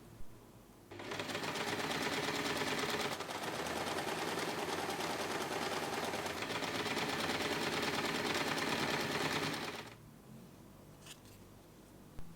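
A sewing machine stitches all around fabric cover flap pieces for a no-zip snap button pouch. It runs as one long continuous rapid whir for about nine seconds, close and steady, with a brief pause in the middle and quiet handling at either end.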